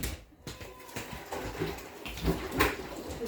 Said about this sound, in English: You do get to fill this water.